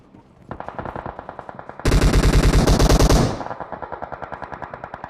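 Rapid automatic gunfire from a battle royale video game, steady bursts that swell into a loud, dense stretch in the middle before easing back to lighter rattling.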